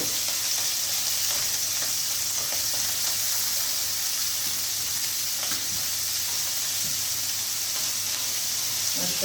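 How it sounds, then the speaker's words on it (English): Scampi frying in oil in a pan, a loud continuous bright sizzle and hiss with faint stirring noises, steady throughout with no talk. "Now we're gonna bake them in some oil."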